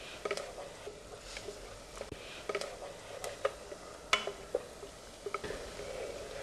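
Food is fried and stirred in a pan in a TV cooking-show kitchen, giving a soft, steady sizzle with scattered clicks and scrapes from the spoon against the pan, fairly quiet and heard with no one talking.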